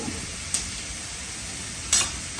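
Onions frying in a pan for pav bhaji, a steady low sizzle with light stirring and two brief sharp clinks of a utensil against the pan; no one speaks.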